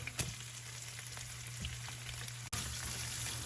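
Noodles with shrimp frying in a pan, a steady close sizzle and crackle throughout, with a low hum underneath and a brief dip partway through as the pan is handled.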